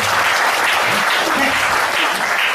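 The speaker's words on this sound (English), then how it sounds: "So can you please give a warm applause?" An audience at a lecture applauds, a warm continuous burst of hand-clapping filling the whole moment at steady strength, with no talk over it.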